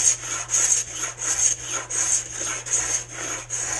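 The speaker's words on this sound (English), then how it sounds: "we're going to simply plane it down" Rhythmic rasping strokes of a hand plane shaving wood, about eight even passes in a steady back-and-forth pattern, close and fairly loud.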